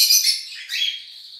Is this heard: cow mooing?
no